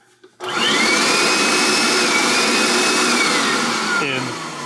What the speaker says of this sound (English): and turn the vacuum on